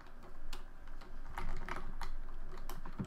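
Steady keystrokes on a computer keyboard while entering Ruby code, a continuous close run of quick clicks with a few louder key presses, no voices.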